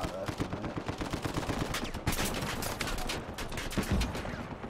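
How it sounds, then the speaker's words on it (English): Continuous gunfire in the Uncharted 4 video game, rapid automatic bursts and single cracks overlapping throughout at a steady loud level, with faint voices underneath. "getting shot at there for a minute"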